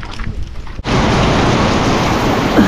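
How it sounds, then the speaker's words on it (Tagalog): A sudden downpour of heavy rain starts and continues as a loud, steady roar. "Lakas ng ulan."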